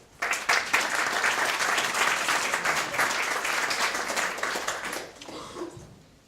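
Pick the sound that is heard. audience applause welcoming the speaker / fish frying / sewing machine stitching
audience applause welcoming the speaker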